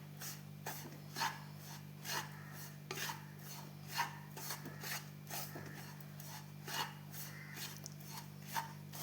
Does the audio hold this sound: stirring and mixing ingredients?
yes